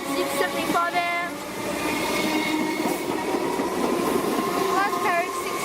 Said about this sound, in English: Our train is about to arrive. This is a Craigman service, this is Siemens.